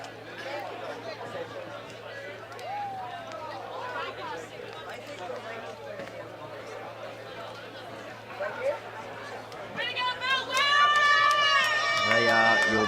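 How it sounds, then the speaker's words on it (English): Spectators at a rugby sevens club championship match make a steady crowd noise behind a commentator's talk, swelling into louder cheering and whistle-like calls toward the end. "You can hear the crowd in the background giving them plenty of love."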